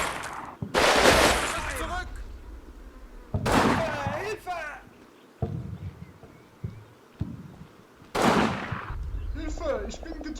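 Gunfire bursts in a Combat Mission wargame battle as troops open fire on enemy-held buildings, loud broadband cracks and rattles in several clusters, with voices and shouts between shots.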